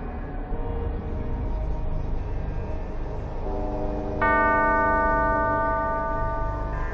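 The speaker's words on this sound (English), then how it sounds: "Only by playing the correct sequence of bells can it be opened." Tuned bells ring out a melodic sequence to unseal a door in the video game Alice: Madness Returns, a run of clear chiming tones layered over a steady ambient game backdrop, swelling louder toward the end.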